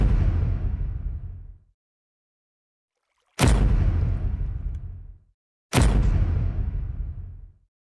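Card reveal sound effect from the Minecraft map Decked Out 2, a loud booming impact with a long decaying tail, heard three times in a row with pauses between.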